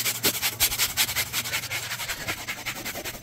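A brush scrubs rhythmically at carpet from a Jeep Commander that has been sprayed with carpet cleaner and anti-mold cleaner. The scrubbing is close and loud, in quick, even back-and-forth strokes with no talking.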